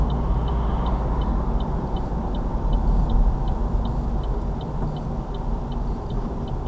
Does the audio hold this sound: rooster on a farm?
no